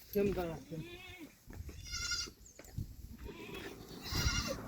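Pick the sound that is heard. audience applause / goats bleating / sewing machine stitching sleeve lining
goats bleating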